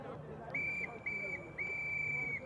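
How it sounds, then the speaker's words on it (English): A referee's whistle blown three times in succession at the end of an ultimate frisbee game between Ireland and India, sharp and steady blasts over the low murmur of a crowd and commentary at a mixed international match. "And there's the 3 whistles"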